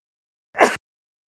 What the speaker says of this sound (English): Not nice to sneeze on the microphone.